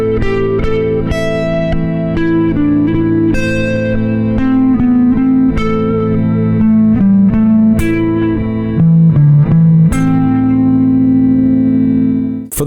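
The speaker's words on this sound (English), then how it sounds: "practice this idea of a larger ascending leap for my punctuation" Electric guitar phrases played across the strings in position with larger ascending leaps, sustained distorted notes over a constant low backing tone, loud and unbroken, no voices.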